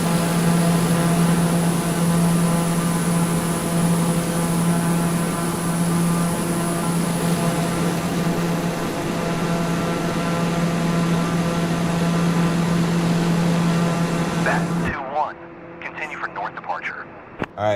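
Daher TBM 900 turboprop in Microsoft Flight Simulator 2024, a loud steady engine drone with a constant hum and whine through most of the clip before cutting to quiet, with a voice speaking over it.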